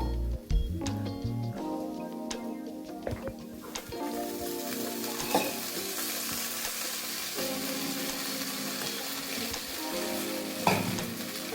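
Chapati noodles with white sauce frying and being stirred in a pan, with a steady sizzle broken by clanks and scrapes of the utensil against the pan.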